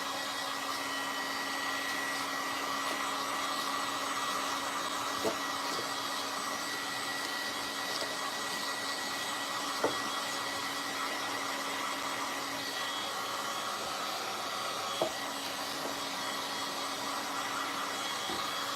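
Hair dryer blowing hot air onto wet paint on a Dollar Tree craft piece, a steady, close whirring hum running unbroken for the whole stretch with a few faint clicks.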